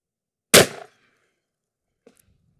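One sharp, loud close-range gunshot from a .357 Magnum revolver firing wadcutter loads, decaying quickly, followed by a couple of faint clicks.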